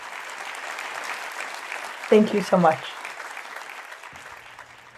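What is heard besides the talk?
round of applause for a guest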